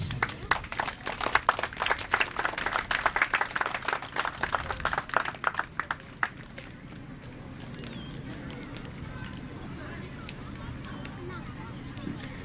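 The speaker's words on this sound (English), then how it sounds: "One more round of applause for our students." A crowd applauds students at an outdoor FSM Independence Day ceremony in Pohnpei, dense clapping for about six seconds before it thins out into quieter ambient murmur.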